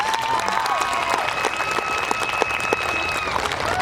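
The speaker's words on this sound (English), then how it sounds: "these people deserve a big round of applause" A crowd claps steadily at a high school senior awards ceremony, the dense applause filling the hall at an even, lively level for a few seconds, with faint background tones and no speech.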